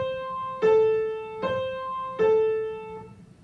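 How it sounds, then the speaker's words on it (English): A short sequence of piano notes played one at a time at an even pace, each struck clearly and left to ring, with nothing else playing. "So I'm going to play a pattern on the piano"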